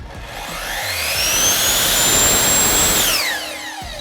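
A 12-inch electric concrete saw blade winds down under its electronic brake, a loud high whine that holds, then drops in pitch and fades to a stop within a few seconds, with no talking.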